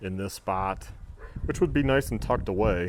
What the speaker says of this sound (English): Sorry for the dog barking out of the blue.